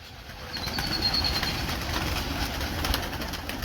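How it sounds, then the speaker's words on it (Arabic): Young pigeons from a loft, first-round squabs recovering from illness, coo low and steadily while wings flutter nearby in a continuous, close, busy murmur. "هواي حلوات الطيور"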